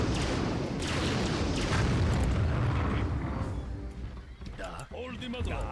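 Tanks being destroyed in the strategy game Empire Earth, with heavy booming explosions rolling over one another in a dense, sustained blast that tails off, followed by a few lighter pops and crackles.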